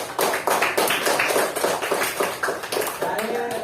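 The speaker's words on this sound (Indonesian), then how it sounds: "Baik, tepuk tangan." Students clapping in an Islamic religious education classroom, a quick rhythmic run of claps, fairly close and steady throughout, with faint voices mixed in.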